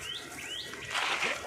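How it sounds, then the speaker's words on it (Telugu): Birds chirping outdoors in a garden, with short high tweets in quick succession over a soft background hiss, heard briefly and at moderate distance. "ఇంకో పక్షులు అరుస్తున్నాయి."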